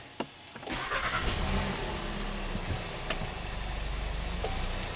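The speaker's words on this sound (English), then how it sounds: "So let's start it up." A 2014 VW Jetta GDI turbo engine with an intermittent misfire and low power cranks with sharp clicks, then catches and settles into a steady, close idle.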